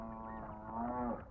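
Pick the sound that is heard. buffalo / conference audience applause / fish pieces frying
buffalo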